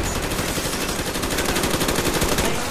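Nonstop automatic gunfire in the video game Call of Duty Black Ops on the Nuketown map, a dense, loud, rapid rattle of shots that holds without a break.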